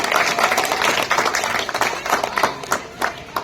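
Audience at an outdoor Republic Day political rally clapping in irregular bursts, a crackling spread of many hands, fairly loud, rising and fading.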